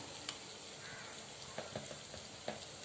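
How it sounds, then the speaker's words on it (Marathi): Onion, green chili, garlic and ginger masala sizzling while being sautéed in a pan, a steady soft frying hiss with occasional clinks of a spoon stirring, close and without talk. "आपला कांदा, हिरवी मिरची, लसूण, आल्याचा मसाला छान परतले गेला आहे"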